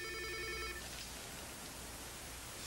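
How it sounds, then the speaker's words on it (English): A telephone rings in a room with repeated electronic bell tones for under a second, then stops, leaving faint steady background hiss. "That's your phone, Albert."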